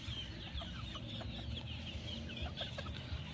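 Young gamefowl chickens, Sweater and SBR crosses, cluck in repeated soft calls against a steady background hum, with no talk.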